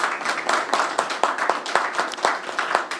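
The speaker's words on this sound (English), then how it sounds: "A round of applause for CNRC." Applause for a sponsor at a summer events press conference in Dunkirk, NY: a modest group clapping steadily with distinct individual claps audible, close and moderately loud, no talk over it.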